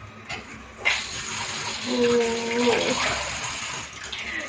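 Water runs from a kitchen tap in a steady gushing hiss, with a short burst at the start and a whistling tone from the pipe partway through, while someone speaks.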